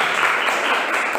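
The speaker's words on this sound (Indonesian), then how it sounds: "Beri tepuk tangan untuk kelompok 1." A brief burst of steady applause from a classroom group, many hands clapping together at moderate loudness.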